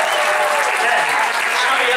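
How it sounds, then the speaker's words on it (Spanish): Sustained applause from a concert audience cheering a band member at a live show in Intxaurrondo, Donosti, steady and dense throughout. "otro fuerte aplauso para"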